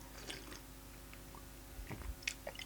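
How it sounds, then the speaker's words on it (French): Someone chews an Oreo cookie eaten dry, without dunking it in coffee: quiet, close bites and soft crunches in a few short bursts. "je vais d'abord le manger sans le tremper dans le café"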